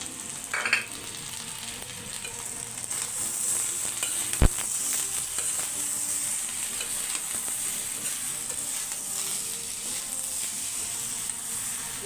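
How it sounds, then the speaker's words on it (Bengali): Chicken sai pitha, a Sylheti stuffed pastry, frying in a pan while it is stirred, with a continuous close sizzle, occasional scraping of the utensil and one sharp knock. "ভালোভাবে নেড়ে চেড়ে ভেজে নেব।"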